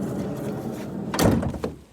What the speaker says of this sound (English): the door comes along and it rubs on it